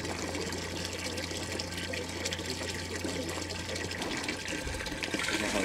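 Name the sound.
water running through hybrid PV-thermal solar panel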